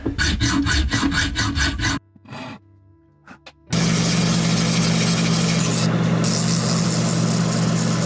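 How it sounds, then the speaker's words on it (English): Rapid, steady back-and-forth rasping of a hacksaw cutting knife-handle pins flush on a cherry burl handle, pausing briefly before resuming in a continuous grinding stroke. "now I'm going to use the hacksaw to cut the posts down flush"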